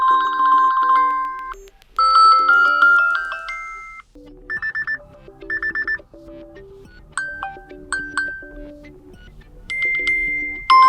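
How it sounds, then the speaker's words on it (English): A series of short electronic ringtone melodies from a Samsung Galaxy Watch 5 Pro plays one after another, bright chiming tones separated by brief pauses, no voices. "we can select a ringtone from the list"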